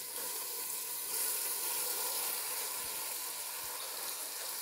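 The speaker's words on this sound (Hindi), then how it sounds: "तो अब मैं इसके अंदर आलू डाल दूंगी।" Steady, close sizzling of potatoes dropped into hot fried masala in a home kitchen pan, a continuous bright hiss that swells briefly and then holds level, with no voices.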